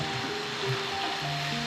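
Ginger and garlic fry in a pan of chicken masala for a Kerala chicken fry, giving a steady, soft sizzle with a faint hum underneath and no talking.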